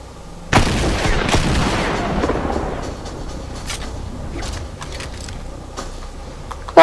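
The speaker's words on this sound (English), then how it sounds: "Automatic sniper rifle." Gunfire from an automatic sniper rifle in the video game Fortnite: a sharp loud shot followed by rapid repeated firing and a decaying rumble, then scattered quieter impacts and a final burst at the end.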